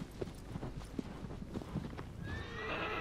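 Hooves clip-clop quickly under a busy soundscape from the video game Shadow of the Colossus, then the horse Agro gives a loud, shrill neigh near the end.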